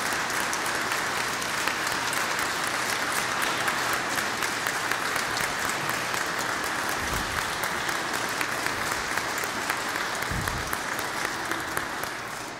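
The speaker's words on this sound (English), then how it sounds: "Please stand and give them a round of applause." A congregation applauds at an Episcopal ordination service, with dense, sustained clapping that carries steadily for over twelve seconds before easing off at the end.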